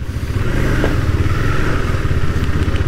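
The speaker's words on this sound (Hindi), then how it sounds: "Stock exhaust." KTM RC 390 motorcycle with its stock exhaust, a loud, close engine note idling and revving briefly with a rapid pulsing burble, heard alone without voices.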